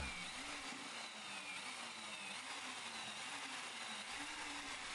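A batch of GrailCoat powder being mixed into polymer gives a faint, steady mechanical whir with a slight wavering drone, continuous and unbroken throughout.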